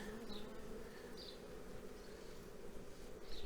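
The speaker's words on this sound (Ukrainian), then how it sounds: "Ловимо до маточки молоді бджоли." Honeybees crawling over a hive frame during queen-rearing season make a continuous close buzzing drone, with occasional higher wingbeat whines from individual bees passing near.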